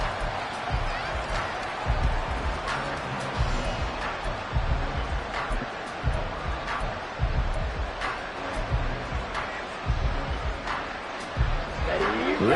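Stadium crowd in Madden NFL 24 rumbles with a continuous roar and scattered cheering during a football game, under a commentator's talk.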